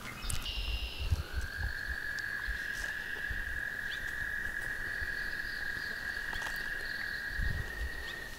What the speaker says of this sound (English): American toad calling in a mate.